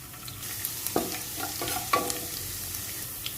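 Finely chopped garlic, seven or eight cloves, frying in a tempering of moong and urad dal for sambar, with a soft, steady sizzle broken by a few sharp stirring knocks of a spoon in the pan.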